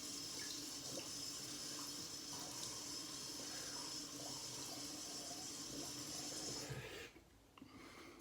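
Bathroom tap running steadily into a sink while a face is wetted, a constant close hiss of flowing water that cuts off abruptly near the end, leaving quiet room tone.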